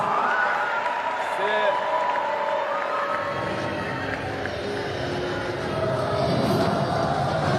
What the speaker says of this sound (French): On l'acclame bien fort.